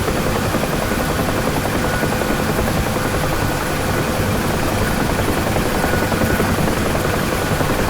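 A UH-1 Huey helicopter hover-taxis along a taxiway in the DCS flight simulator game, its loud, continuous rotor thump and turbine roar filling the whole span without pause.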